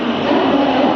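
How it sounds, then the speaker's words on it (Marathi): A Dombivli-bound suburban commuter train pulls in at a Mumbai-area station, a loud close rumble of rolling carriages heard in a short burst without talk. "ट्रेन आली आता"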